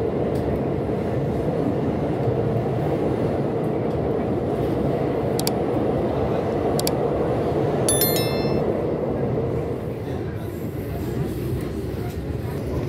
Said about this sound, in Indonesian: Seperti pemandangan saat kereta ini melintas di jembatan Lahore.